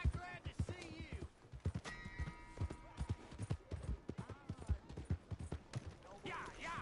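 Horse hooves clip-clopping in a quick, uneven rhythm of sharp knocks, with occasional vocal calls over them.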